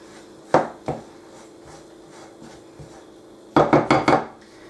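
A spoon knocks and scrapes against a bowl while vegan biscotti dough is stirred, giving a couple of isolated clacks early on and then a quick cluster of four sharp knocks near the end, close and fairly loud.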